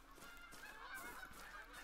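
Canada geese in the hunting game Call of the Wild honk faintly and repeatedly at a distance, several overlapping calls in quick succession.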